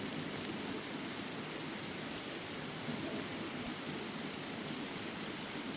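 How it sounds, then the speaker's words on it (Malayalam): Steady rain falls in the Roblox game 99 Nights in the Forest, a constant, even hiss of moderate loudness running the whole stretch with no talk over it. "അയ്യോ മഴ പെയ്യുമല്ലോ."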